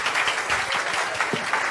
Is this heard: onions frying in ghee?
no